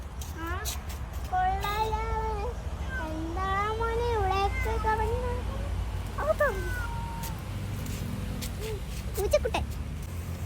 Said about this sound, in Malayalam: പൂച്ചക്കുട്ടൻ